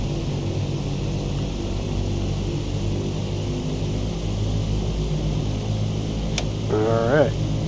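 Douglas DC-6 propeller engines run at full power in Microsoft Flight Simulator 2020, a steady, loud droning roar that holds evenly throughout, with a brief tonal warble near the end.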